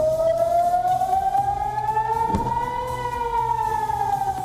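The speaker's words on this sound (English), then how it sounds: "red alert sirens, a warning of incoming rocket attacks from Gaza, continued to sound throughout southern Israel" Red alert rocket warning sirens wail across southern Israel, a steady, loud civil-defense tone sweeping slowly up and down, with a brief thump partway through.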